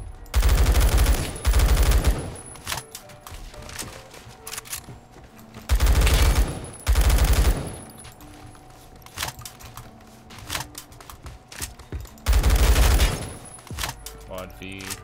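A G36 assault rifle fires in Roblox Phantom Forces in loud, rapid full-auto bursts, three separate clusters of two quick bursts each, with quieter game noise and scattered clicks in the gaps between.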